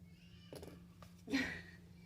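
A cat named Kieran whines from another room, faint and distant, a few short plaintive meows with the last one slightly louder, over a quiet indoor hum.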